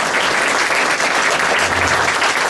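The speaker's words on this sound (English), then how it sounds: "Let's say have a special round of applause for Ben and Jack at their job tonight." Dense, steady applause from a crowd at a political debate dinner in Owatonna, Minnesota, filling the room loudly and evenly throughout, with no voices rising above it.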